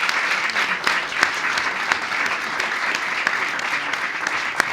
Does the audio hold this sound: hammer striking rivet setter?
no